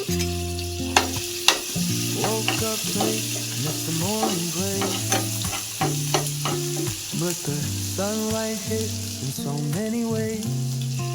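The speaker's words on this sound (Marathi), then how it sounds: "आपण आता थोडं तेल गरम करून घेत आहोत. याच्यामध्ये आलं लसूणची पेस्ट आहे." Ginger garlic paste frying in hot oil for a bombil curry, giving a continuous bright sizzle under melodic background music that runs throughout.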